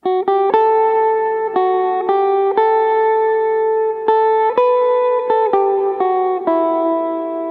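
Electric guitar run through effects plays the Ruhnu folk tune Uppbuoleiken, with clear single plucked notes in an unhurried melody that climbs slightly. Each note sustains smoothly into the next, and the guitar is heard alone without speech.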